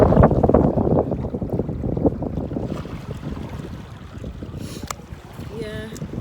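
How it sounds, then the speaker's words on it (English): Wind gusting outdoors in Malta roars loudly and steadily into the microphone for the whole stretch, with low rumbling buffets and a few brief faint tones near the end. "Lord God, you see the wind there?"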